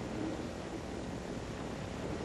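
Recorded and amplified human brain electrochemical impulses give a dense, steady, noise-like rush with a faint crackle, even and unbroken throughout, soft and alone.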